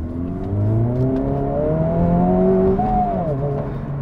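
A Honda Civic Type R in R mode revs hard while accelerating on a run, its engine note climbing steadily in pitch through the gears with a loud, close, continuous drone.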